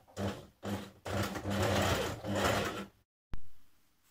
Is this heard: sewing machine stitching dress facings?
yes